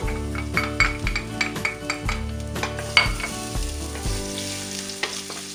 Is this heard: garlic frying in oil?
yes